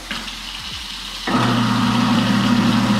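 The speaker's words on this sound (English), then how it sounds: "This part here is the garbage disposal machine, and here's the switch. Turn the water on first." A kitchen sink garbage disposal switches on partway through with water already running, settling into a steady, even motor hum and rush of water with no grinding or clinking.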